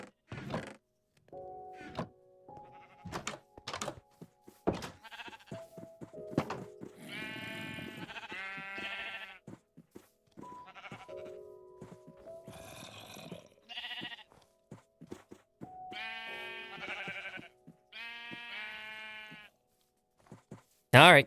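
Minecraft sheep bleat several times in short, wavering cries, mixed with blocky thunks and other game sounds during farm work in hardcore survival mode, with no speech.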